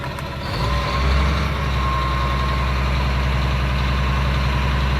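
A Caterpillar diesel engine idles in a 2004 Blue Bird 48-passenger school bus with an automatic transmission, holding a steady, close, low rumble that rises slightly at first and then stays even throughout.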